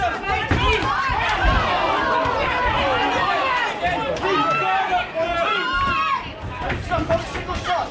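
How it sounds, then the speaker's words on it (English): Crowd at a white collar boxing event in Dudley shouting and cheering loudly for the boxers, a dense, continuous roar of many voices with whoops throughout. "Make some noise for the boxers!"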